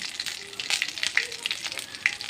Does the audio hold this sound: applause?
no